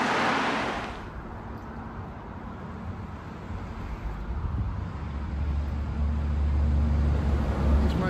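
Road traffic on the A303 carriageway, a low steady rumble of passing vehicles with wind noise, a brief hiss at the start and a heavier engine drone building toward the end.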